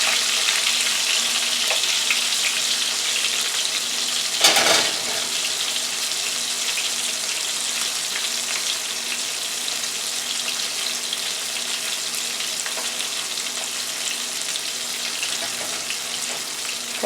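Porgy fish frying in a pan just after being turned over, a steady close sizzle and crackle throughout with a brief louder burst of spatter near the start, no voices.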